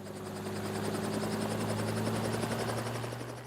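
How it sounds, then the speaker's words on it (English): A helicopter flies low over a wildlife reserve to herd elephants back toward a conservation area, its steady rotor thump and engine drone loud and continuous throughout. "They've decided to bring in a helicopter, but even then, it's a challenge."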